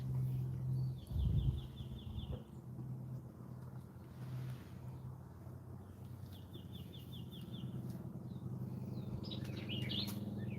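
Birds chirp outdoors in short repeated trilling bursts while hummingbirds come by nearby, set against a constant low rumble of background noise, with no talk.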